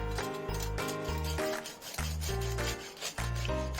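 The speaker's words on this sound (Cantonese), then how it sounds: "可以聽到啲皮幾脆" Rough scraping and crunching as a bread knife saws through crisp roast pork skin, repeating in short strokes beneath steady background music.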